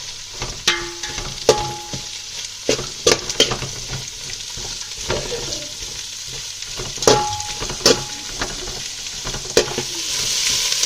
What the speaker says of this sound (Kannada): ಈಗ ಟೀಟಾಗಿ ಫ್ರೈ ಮಾಡಬೇಕು